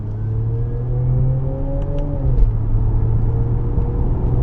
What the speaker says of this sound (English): you can hear now the engine, and you can take the engine noise off, or digital noise off if you want